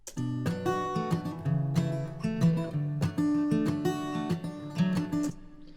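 Two acoustic guitars play together, strumming and picking the same chords in interlocking patterns, producing a full, layered, rhythmic sound up close.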